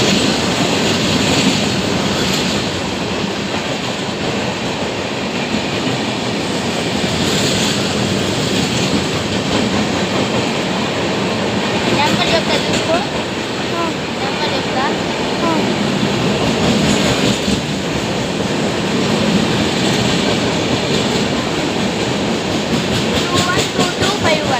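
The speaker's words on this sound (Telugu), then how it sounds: "ఆ ట్రైన్ వచ్చేసి Bengaluru intercity super fast express guys" Bangalore Intercity Superfast Express train passing a station platform, a loud, continuous rumble with rhythmic clickety-clack of wheels over rail joints and occasional squeal, sustained close by for the whole stretch.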